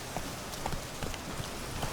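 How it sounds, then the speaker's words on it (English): Roach, the horse in Witcher 3, gallops with steady clip-clop hoofbeats in a quick rhythm, close and moderately loud over a dense game-ambience bed, with no talking. "Until then, I get to ride a very funny looking horse."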